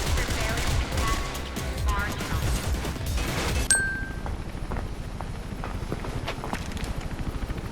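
Gunfire from the video game Mirror's Edge comes as rapid bursts of shots over dense game noise. A sharp ding follows, then lighter scattered clatter.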